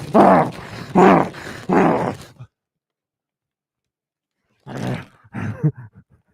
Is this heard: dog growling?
yes